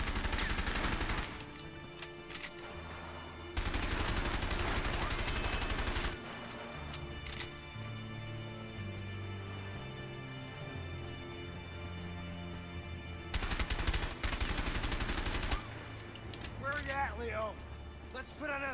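Video game gunfire from A Way Out comes in loud bursts of shots separated by calmer stretches of music and ambience, with speech woven through.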